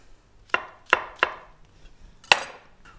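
Four sharp knife chops through porcini mushrooms on a cutting board, close and crisp, irregularly spaced with short pauses and a louder final strike, no talking.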